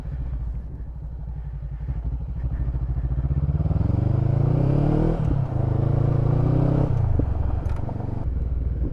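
A heavier dirt bike rides a dirt trail at Harrison Hills. Its engine rumbles loud and close without a break, and the revs climb steadily before briefly dropping and then picking up again.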